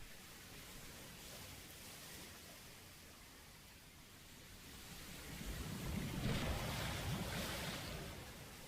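Ocean waves rolling and breaking in a steady wash of surf, building to a louder, closer crash in the second half before easing back, with no voices.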